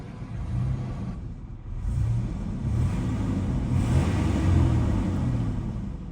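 Chevrolet Blazer engine running after a tune-up, a steady low rumble close by that swells slightly as if revved, with no talking.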